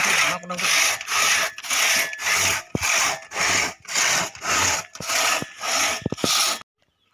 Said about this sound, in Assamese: আমাৰ গছ কাটি হৈ গ'ল, এতিয়া চেও দি আছে।